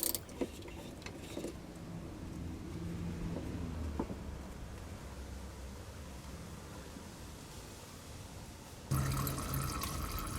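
Water runs out of the opened drain bolt on a car's diesel fuel filter into a catch container, a steady faint trickling hiss with a few small clinks, then a louder shift near the end.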